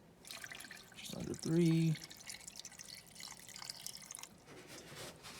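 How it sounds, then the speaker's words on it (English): Water poured into a rock tumbler barrel, a short splashing trickle with a few drips, heard close up while a person talks over it. "I'm not gonna put as much water in as I did before."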